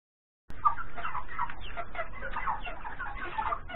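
Young ducklings newly hatched from an incubator, a continuous chorus of soft peeping and chirping close by, starting abruptly after a brief silence and carrying on without pause.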